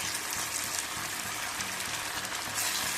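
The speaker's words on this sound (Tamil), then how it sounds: "ஏன்னா நான் டீப் ஃப்ரை பண்ணல, ஷாலோ ஃப்ரை பண்ண போகிறேன்." Chicken 65 pieces shallow frying in oil in a nonstick pan, giving a steady, dense sizzle that stays even and close throughout, with no talking.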